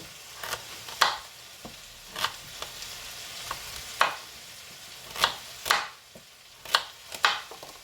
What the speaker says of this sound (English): these carrots are big, so they are a little bit tough to cut